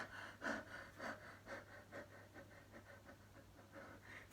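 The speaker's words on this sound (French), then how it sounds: "Excusez-moi, reprends ma respiration." Heavy panting of someone catching their breath, about a dozen rhythmic close breaths at a quick steady pace, fairly quiet and alone without talk.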